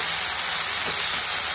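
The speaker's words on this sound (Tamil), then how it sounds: "அப்படி எதுவும் இல்லைன்னா என்ன இன்க்ரீடியன்ட் இருக்கோ அதை எண்ணெயில் போட்டு கொஞ்சம் நேரம் ஃப்ரை பண்ணியாச்சு" Ingredients frying in hot oil for a tamarind curry, giving a steady, loud, even sizzle and hiss that runs unbroken throughout with no talking.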